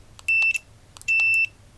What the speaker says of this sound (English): I connect a multimeter and it's set on continuous beeping signal